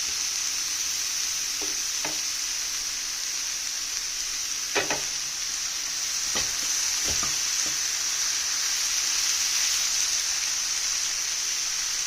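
Curry leaves dropped into a hot pan of cabbage and green gram thoran, giving a steady frying sizzle throughout with a few sharp crackles and stirring knocks, close and alone with no talk.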